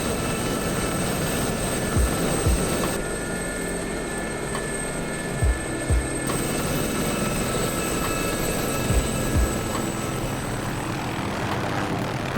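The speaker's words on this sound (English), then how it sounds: "One of the even better things about DCS is this helicopter right here" A helicopter in the DCS World flight simulator drones steadily with a continuous rotor and turbine roar, holding close and loud for the whole stretch, with a few faint thumps and no talking.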